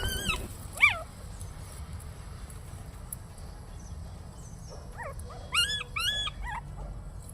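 A dog being rescued gives a few high, thin whimpers and short yips, one early and a cluster near the end, fairly faint over quiet background noise.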